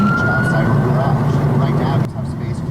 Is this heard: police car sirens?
yes